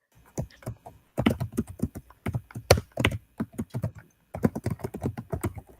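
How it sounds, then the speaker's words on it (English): Rapid clicking keystrokes on a computer keyboard come in bursts with short pauses, close and clear, heard alone. "Teresa, I can hear you typing"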